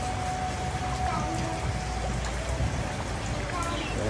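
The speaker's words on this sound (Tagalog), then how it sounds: "Yan, maulan-ulan pa yan." Light rain falls steadily as a constant soft patter and hiss, fairly close, with faint dripping and no clear speech over it.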